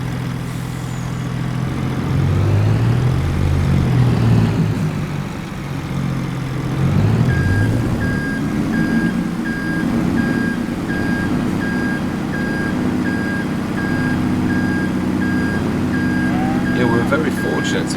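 A cheap lorry in Farming Simulator 22 reverses, its steady repeating beep running through most of the stretch over a constant low engine drone, with a voice talking on and off above it.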